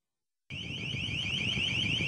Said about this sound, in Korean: 에디길이 고래 포획을 막으려고 경보음을 울리며 일본 어선 쪽으로 다가갑니다